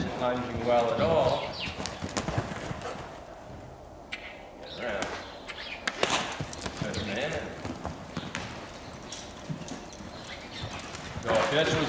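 Hoofbeats from a young horse being lunged on a circle thud in a steady rhythm under ongoing talk, with occasional sharper clops and scuffs as the horse moves around nearby.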